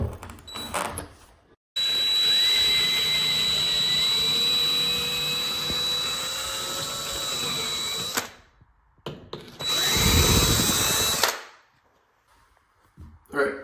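A power drill bores a hole in ceramic wall tile with a long, loud, steady high-pitched whine, then stops. A second shorter burst follows after a pause, with faint clatter around the runs.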